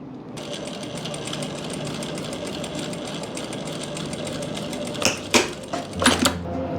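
A sewing machine stitches wide lace onto a dupatta with a steady, close mechanical rattle, ending in a few louder knocks and clicks.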